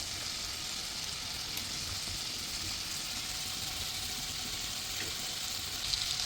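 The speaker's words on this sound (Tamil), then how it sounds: "அதனால தான் பன்னீர் வறுக்கிறது" Paneer cubes frying in butter in a pan give a steady, soft sizzle that holds evenly throughout with no talking.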